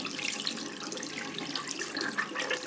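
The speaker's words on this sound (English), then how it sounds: "And then come to the sink, rinse it out like this." Tap water runs steadily into a sink as a menstrual cup is rinsed, a close, even hiss with light splashing fluctuations and no talking.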